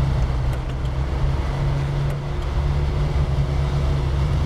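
A vehicle in SnowRunner drives along with a steady low engine drone and road rumble, constant and fairly loud throughout the short stretch.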